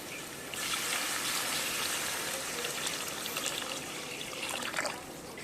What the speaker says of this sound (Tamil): நம்ம கரைச்சி வச்ச புளியை வந்து ஊற்றிக்கலாம்.